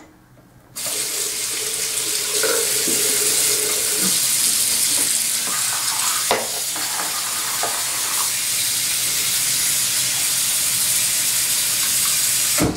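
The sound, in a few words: tap water running into a basin to clean a hairbrush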